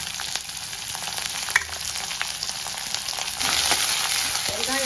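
Onions, garlic cloves and curry leaves fry in oil with cinnamon, cloves, bay leaf and green chilli for Kumbakonam kadappa, making a dense, constant close sizzle that swells louder near the end.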